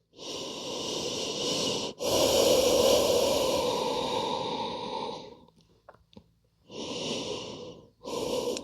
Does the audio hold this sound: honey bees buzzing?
no